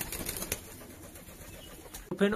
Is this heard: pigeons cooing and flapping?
yes